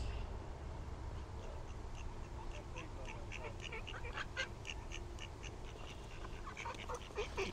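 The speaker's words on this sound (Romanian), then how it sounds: "Am descoperit o familie de rațe, rață și rățoi." A duck and a drake quack in the Canadian wild, a cluster of short, scattered calls at moderate distance over a steady low outdoor rumble, with no talking.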